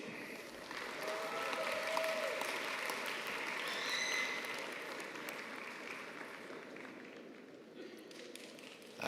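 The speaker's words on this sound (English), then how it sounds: "Let's see your thunderous applause." Distant, fairly quiet applause from the audience at a Faculty of Mathematics graduation ceremony, a steady wash of clapping that swells early and then gradually fades.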